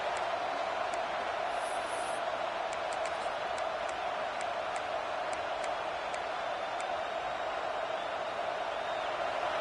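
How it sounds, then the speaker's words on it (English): A stadium crowd roars continuously in a college football video game with a ranked Penn State, a dense, unbroken wash of noise with faint higher clicks over it. "The roar of the crowd trying to fuel this defense to keep them pinned in their own end."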